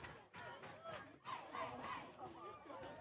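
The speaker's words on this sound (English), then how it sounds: "The Spruce women's team cheering on their men's side" A women's rugby team cheers on their men's side from the sideline at an outdoor match, a crowd of voices shouting and calling out together in overlapping bursts, moderately close.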